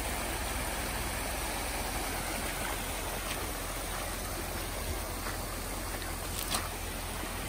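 Water runs steadily through a drainage pipe in a swampy field, a soft, continuous trickling wash at low level with no talk over it.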